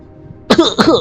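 Two sharp, close coughs in quick succession, loud and abrupt after a moment of quiet.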